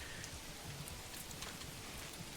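Rain falls steadily in the medieval city-building game Manor Lords, a dense, even hiss of drops with no breaks, soft and alone.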